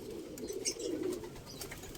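A yellow tiger grizzle pigeon, a rare colour variety, coos softly and steadily in a low continuous murmur, with faint background chatter and noise above it.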